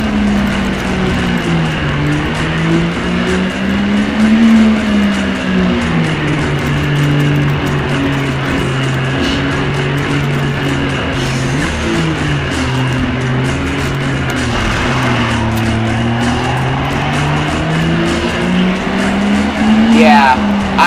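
A damaged car in the racing game Need for Speed: High Stakes drives over snow, its steady engine drone rising and falling with revs, broken by faint tire skids, loud and continuous throughout.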